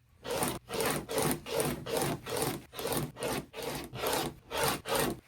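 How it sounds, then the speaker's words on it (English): A rotary cutter slices through quilt fabric half-square triangles on a cutting mat, giving about eleven even, close scraping strokes in a steady rhythm with no talking. "definitely going to use a rotary cutter on these"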